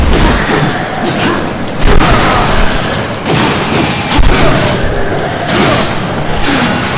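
Heavy booming blasts from the Hand of Fate attack in the Darksiders video game, several loud thudding explosions in a row, with brief shouting over the action.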